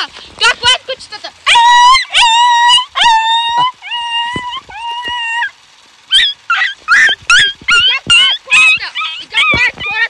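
A person mimics a dog, yipping and whining in a string of short, high barks and drawn-out whimpers, loud and close, with voices laughing and talking around the imitation.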